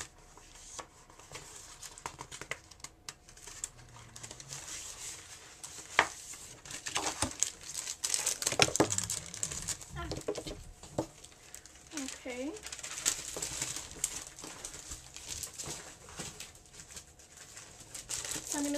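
Decorative scrapbooking paper from a Cosmo Cricket line is shuffled and handled up close, giving soft, irregular crinkling and rustling that comes and goes quietly throughout.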